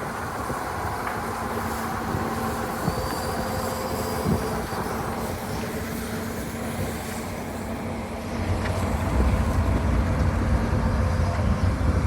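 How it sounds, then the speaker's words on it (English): The M231 diesel hydraulic shunter locomotive runs at a Newport Workshops open day, giving a steady, continuous engine rumble and drone close by that grows slightly heavier near the end, with faint crowd noise. "What a magnificent locomotive. M231, the diesel hydraulic shunter."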